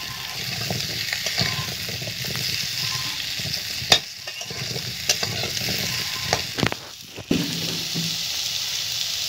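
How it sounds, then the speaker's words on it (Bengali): Cut potato pieces fry in a pan with a steady, close sizzle, broken by a few sharp clinks and scrapes of stirring. No voices. "এরপর আমি আলুগুলোকে ভেজে নিচ্ছি"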